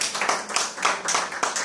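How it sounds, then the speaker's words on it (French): Congregation clapping in a church service, several bursts of hand claps rising and falling in an uneven rhythm, fairly close and with no talk over them. "Si on peut acclamer pour le Seigneur."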